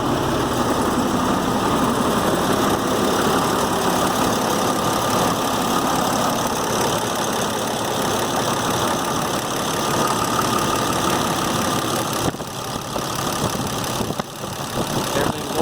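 A 2007 Ford F750 with a 5.9 Cummins diesel idles steadily after injector replacement, a dense, even clatter heard up close and continuous throughout.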